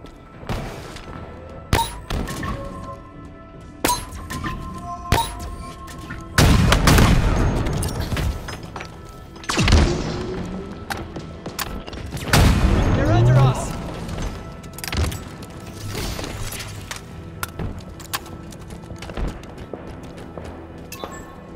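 Gunfire from online Halo Infinite multiplayer play on Xbox Series S, with repeated heavy bursts and booming impacts among thuds and explosions, set against continual game sounds and in-game voice callouts.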